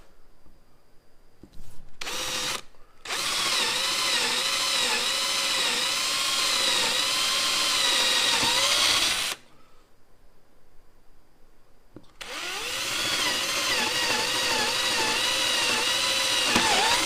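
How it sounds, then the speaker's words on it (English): A power drill bores a handle hole into the wooden side of a honey super box, whining steadily through two long drilling runs with a short pause between and brief starts before, no voices. "Now I'm going to drill the hole for"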